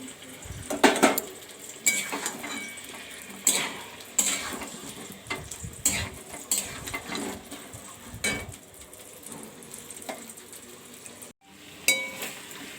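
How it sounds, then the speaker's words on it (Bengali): Chopped capsicum and fried potatoes stirred in a sizzling pan, an uneven run of spatula scrapes and clinks against the metal over steady frying hiss, close by and with no talking. "তারপর এটাকে ভালো করে নেড়ে চেড়ে এবার দিয়ে দেবো এই ভেজে রাখা আলুগুলো।"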